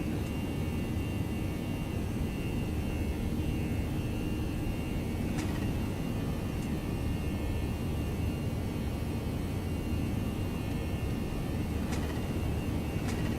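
An Airbus A319 takeoff roll in the X-Plane 11 flight simulator gives a steady, broadband jet engine roar at moderate level. It holds constant, with occasional faint clicks and no voices.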